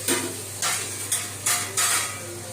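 Chicken biryani base being sautéed in a pot, with a spoon scraping and stirring in five distinct bursts over a steady sizzle and clinking of metal against the pot.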